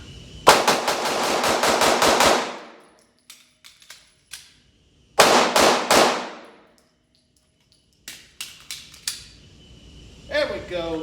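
Rapid strings of pistol shots from an FN 509 Tactical fitted with a PMM compensator and red dot crack out loud and close in three quick bursts at an outdoor range, separated by short pauses with small clinks.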